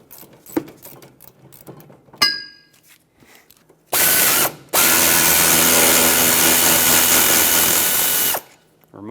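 Rear brake caliper bracket bolt on a Mazda 6 being broken free with a power tool: a short burst followed by a longer steady loud whir, after scattered clicks and tool handling sounds.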